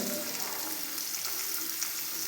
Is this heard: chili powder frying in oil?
yes